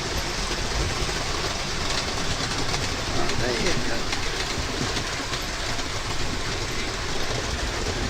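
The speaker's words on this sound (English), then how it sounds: "trains going" A train rumbles steadily past outside an open window, a continuous broad wash of rail noise with faint clatter running under casual nearby talk.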